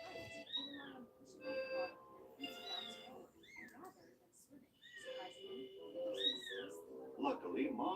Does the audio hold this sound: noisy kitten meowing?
yes